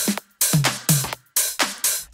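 Pitched toms in an EDM beat hit in a punchy sequence of about five strikes, each with a sharp attack and a quick downward-sliding boom, loud and alone with no voices.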